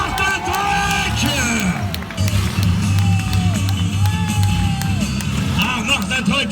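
Crowd at a monster truck show cheering and whooping over loud engine noise, with a busy mix of shouts and an announcer's voice talking through the din.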